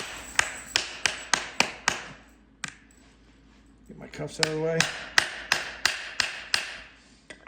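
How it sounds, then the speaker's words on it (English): The round side of a hammer taps EasyCare stud inserts into a hoof boot sole, sharp metallic knocks in quick, regular bursts, close and loud, with a short pause where someone speaks briefly. "I'll come back in with my round side of my hammer."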